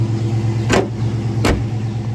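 A Chevy box car engine runs at a steady idle, close and constant, with two short sharp broadband bursts breaking through partway.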